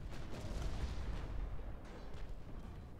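Naval guns fire on a destroyer during a Battle of Tsushima engagement in Ultimate Admiral: Dreadnoughts, heard as a continuous low rumbling barrage of distant artillery with no distinct separate shots.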